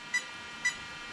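Short, high electronic beeps come from an Arrma Kraton 8S RC car signalling a motor sensor loss. Two brief, evenly spaced tones sound faintly over a steady background hiss.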